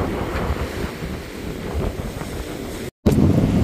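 Strong wind on the Crimean coast buffets the microphone in a steady roar, with a brief dropout near the end before the gusting resumes.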